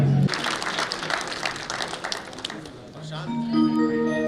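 An audience at an award ceremony claps in a dense burst of applause that fades, then a musical tone and voices rise over the hall near the end.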